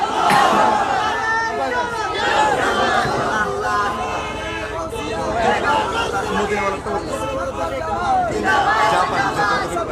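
A crowd at an outdoor Islamic Quran tafsir mahfil in Chandanaish chants takbir back in response to a call, a dense, loud, continuous roar of many voices that holds steady throughout.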